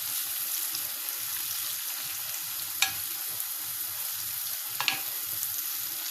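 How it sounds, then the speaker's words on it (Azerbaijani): Crescent-sliced onions sizzle steadily in hot oil in a pan while being cooked for Azerbaijani makaron xengeli, with a couple of sharp utensil clinks against the pan as they are stirred, close and moderately loud. "Və bircə qarışdırırıq ki, yaxşıca qovrulsun"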